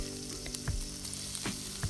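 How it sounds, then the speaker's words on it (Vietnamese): Meat frying in a pan until crisp, a steady bright sizzle with a few soft stirring thumps and scrapes at intervals, close and fairly quiet, no voices. "Chiên thịt để cho giòn lên,"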